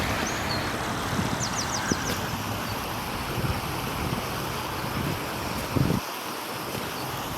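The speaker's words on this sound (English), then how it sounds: "Just that sound of that water running, just a short for a minute so you can hear it." Water runs steadily at a canal lock with an overflow, a constant broad rushing wash that fills the whole stretch, with a few faint bird chirps and light handling bumps on top and a brief dip near the end.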